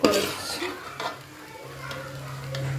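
Tomatoes for chicken curry sauté in a pan with a soft continuous sizzle, broken by a few stirring scrapes of a utensil, close and moderately loud.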